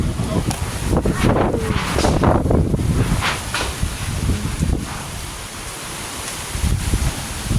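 Strong typhoon wind gusts buffet the microphone with a loud, rough roar that swells and eases, with a voice faintly mixed in.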